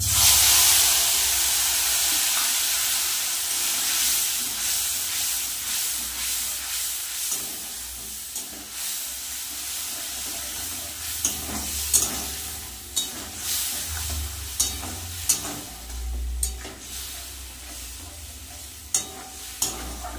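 Ground spice paste hitting hot oil in a pan, a loud hissing sizzle that settles into a steady fry, punctuated by sharp clicks of stirring, close and with no speech.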